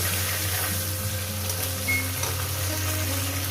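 A whole fish frying in hot oil in a pan, giving a steady, close sizzle with no break and no voices over it.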